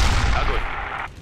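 A tank cannon fires in the World War II tank game Theatre of War 2: Kursk 1943, one heavy blast with a deep low boom that fades out over about a second.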